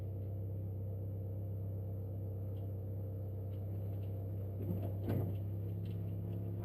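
A steady low car engine drone during a slow drive on a turbocharged stock-block engine being remote-tuned, continuous and fairly even with a brief knock or thump near the end.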